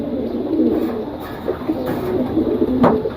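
Pet pigeon cooing close by, low repeated throaty coos in a soft rhythmic run over a steady background hum.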